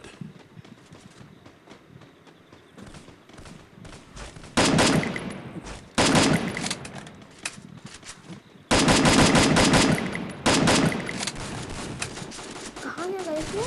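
Video game gunfire in the shooter Titan Attacks, with loud sustained rapid automatic bursts in several long stretches, heard alongside a voice talking.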